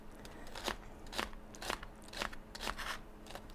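A knife slices romaine lettuce thinly on a diagonal, giving a string of crisp, crunchy cuts at a steady rhythm, close and quiet.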